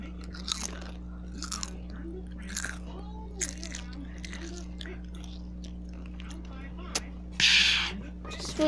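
Crunchy Hydro Crunch chips being bitten and chewed in a series of crisp crunches over a steady low hum, close to the microphone, with brief voices.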